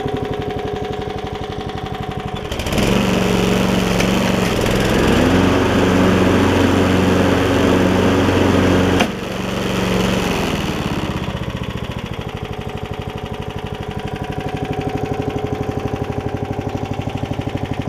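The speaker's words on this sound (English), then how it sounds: "I think it runs pretty darn good" Small engine of a 1996 Toro Super Recycler lawn mower, freshly carburetor-adjusted, running steadily, with a louder surge in the middle before settling back to a steady drone.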